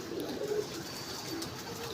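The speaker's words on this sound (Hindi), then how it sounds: "ये इधर फैंसी कबूतर है हमारे जो बच्चों ने रखे हुए हैं।" Soft, low cooing of fancy pigeons, a few throaty coos near the start, over a steady background hiss.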